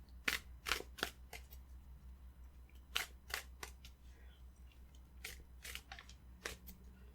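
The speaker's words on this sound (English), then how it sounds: "So I want to give this a good shuffle to get those cards incorporated back into the deck." A deck of tarot cards is shuffled in crisp, separate riffles and snaps, close and quiet, each burst sharp against a low steady hum.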